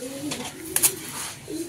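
A racing pigeon with striking eyes coos softly up close, a short pair of low rolling calls broken by a brief bright rustle in the middle.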